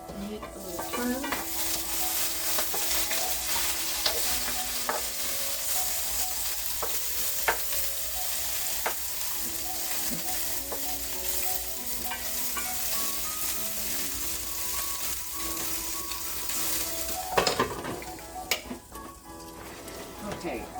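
Meatballs sizzle steadily in a hot pan as they are stirred and turned, with occasional scraping clicks and a voice speaking over the frying.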